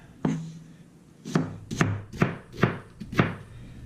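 A knife chops onions on a cutting board for chickpea soup, six distinct thuddy cuts at irregular intervals, close and clear, with no speech.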